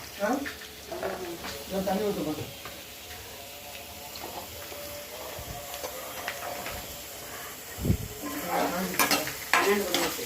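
Crushed garlic fries in a pan for a spicy tamarind kuzhambu with field beans, sizzling close by while a spoon stirs with sharp clinks and scrapes. Speech and other household noise come and go alongside it.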